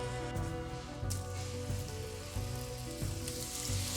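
A steelhead fillet sears in a hot pan with a steady close sizzle and crackle, loud and continuous, with no talking.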